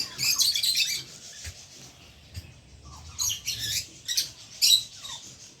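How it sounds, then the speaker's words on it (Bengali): Small birds in an eco park give short bursts of high chirping, a few clustered calls separated by quieter gaps, fairly close with no voices. "এই যে ছোট ছোট পাখি আছে এই জায়গায় অনেকগুলো পাখি দেখতে পাচ্ছেন"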